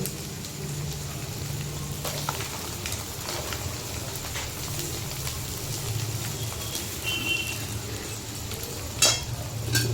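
Flattened rice (chira) and peanuts stirred and fried together in a pan, a steady close sizzle with soft scraping strokes running through the whole stretch, no voices.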